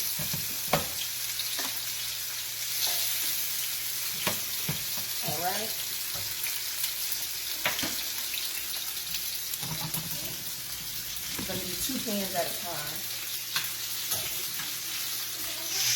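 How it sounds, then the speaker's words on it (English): Steady hiss of lamb chops searing in a hot pan, with occasional clinks and scrapes, and someone talking briefly over it. "we are going to let it pan sear"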